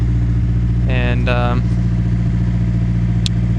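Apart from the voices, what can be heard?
Nissan S13 SR20DET engine idling after turbo install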